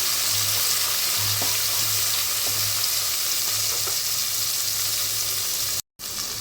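Tomatoes sizzling with softened onions in a pan while cooking a vegetable nonbu kanji, a steady close hiss of frying with light stirring scrapes, alone without talk.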